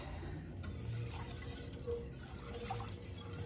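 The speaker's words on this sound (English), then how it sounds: "Just kind of mix together the ginger and the garlic that you just grated in there" A whisk stirs grated ginger and garlic into broth, giving quiet, soft liquid swishes and faint clinks that come and go over a low background hum.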